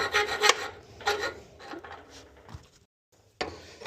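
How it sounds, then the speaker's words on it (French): A hand file rasps back and forth across metal, squaring up holes while installing an Enviolo hub on a cargo trike, with a few close, loud strokes, then a brief pause and one last stroke. "Il faut le faire avec la lime ici."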